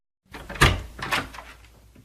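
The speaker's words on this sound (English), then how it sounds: "The door of the office opened, and Belinda came in." Office door opening, with a soft click followed by two wooden thumps and a brief creak that fades, close and fairly quiet.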